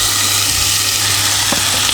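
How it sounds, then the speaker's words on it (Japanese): Steady, close sizzling and crackling of chicken frying in hot olive oil in a pot, a dense continuous hiss with occasional small pops. "鶏肉に焼き目がつくまでちょっと焼いていきます。"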